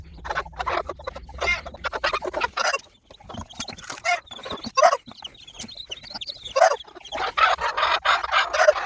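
Hens and small chicks in a cage, clucking and cheeping busily throughout at close range, with a steady chatter of peeps and hen calls.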